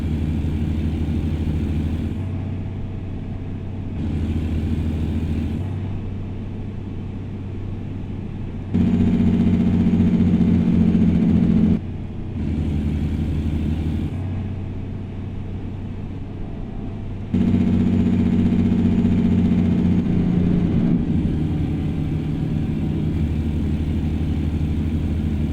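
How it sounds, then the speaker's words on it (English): Simulated Kenworth W900 truck engine in American Truck Simulator, pulling a wide load; a steady low diesel rumble that swells louder in long stretches and drops back between them, with no talking. "this W900 sure does outpull the Cascadia."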